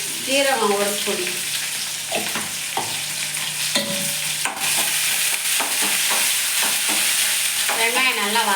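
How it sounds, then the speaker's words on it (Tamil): Steady sizzling of onions stir-frying in hot oil, with repeated scraping and stirring clatter throughout; a voice murmurs faintly in the background. "வெங்காயம் நல்லா வதங்கணும்"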